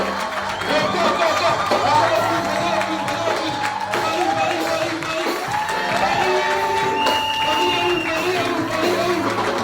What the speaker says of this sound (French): je reçois avec les honneurs beaucoup d'acclamation